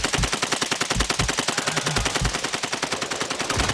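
Rapid automatic gunfire in the video game Modern Warfare II, loud and continuous with a fast rhythmic rattle of shots throughout.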